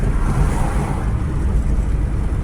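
A steady, loud rumble of a car in motion fills the whole stretch, an even broadband road and engine drone with no breaks and no voices.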